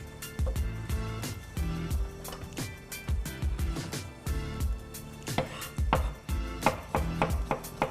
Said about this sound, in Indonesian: Saya chop kasar.